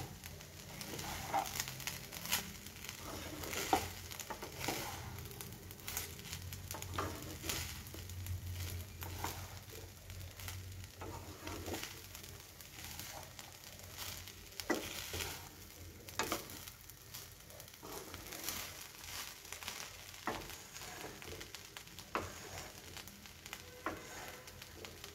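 Rice mixed with sugar being stirred in a pan, giving a steady close sizzle with soft scraping and stirring strokes throughout, no voices.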